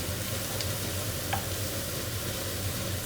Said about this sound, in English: Now it's time to throw in the zucchini. Give that a bit of a stir for a couple of minutes.